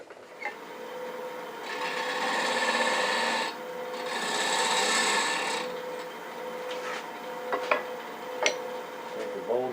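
A jarrah bowl spins on a wood lathe as a tool cleans up its edge, giving two sustained raspy cutting passes over a steady motor hum, followed by scattered light knocks and scrapes.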